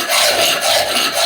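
A hand file roughs hard scale off a metal bar for steam locomotive boiler band lugs. Close, steady rasping strokes run together with no pauses.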